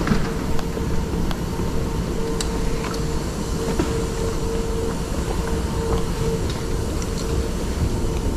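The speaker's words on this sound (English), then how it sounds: "Next to me right now has a train," Steady low rumble of a train nearby in Grand Central Station at night, with a constant hum and occasional clicks and clanks over continuous background noise.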